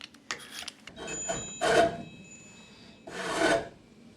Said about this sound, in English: Nothing helps to shape wooden material like a good wood rasp.